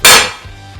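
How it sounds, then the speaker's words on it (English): One sharp, loud hammer blow lands on the large striking cap of a screwdriver handle to loosen a jammed screw, ringing briefly before fading. "Jammed screws can be loosened with the blow of a hammer on the large striking cap on the handle of the screwdriver."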